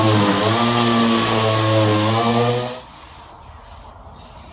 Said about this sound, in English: So that's it. Done with the sanding, inside and out of the box.